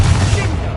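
A Confringo fire spell blasts in Hogwarts Legacy, one short, loud, crackling burst that fills the moment.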